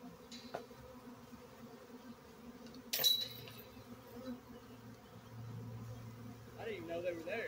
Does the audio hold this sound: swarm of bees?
yes